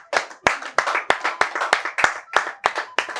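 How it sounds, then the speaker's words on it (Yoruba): A game-show studio audience claps in a sharp, rhythmic beat, roughly three claps per second, crisp and close, with no other sound between the claps. "ẹ jẹ́ bá mi pàtẹ́wọ́ fún wọn."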